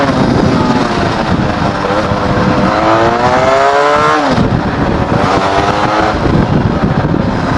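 A Benelli TRK502 motorcycle fitted with a new Akrapovic exhaust revs up close and loud, its engine note climbing twice in rising sweeps, then dropping back to idle.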